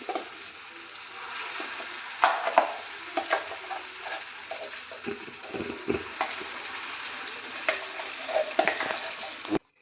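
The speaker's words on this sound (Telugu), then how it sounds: "ఇందులో మనం రెడీ చేసుకున్నటువంటి ఈ పచ్చడిని ఈ పోపులో యాడ్ చేయాలి" Ginger chutney (allam pachadi) being stirred into a sizzling tempering in a hot pan, with a steady frying hiss and repeated spatula scrapes and clinks against the pan throughout, close and fairly loud.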